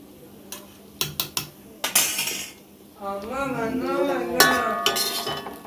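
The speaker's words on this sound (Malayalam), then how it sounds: "ഒന്ന് ഇളക്കി കൊടുക്കണം." A metal utensil stirs and taps powder in a pan: several sharp clinks and knocks, a scrape, then a short pause before a longer stretch of rattling and clinking up close.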